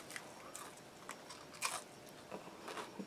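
Someone eats fast-food onion rings from a Hardee's lunch, with quiet, close crunchy bites and chewing in irregular bursts that carry sharp crisp crackles.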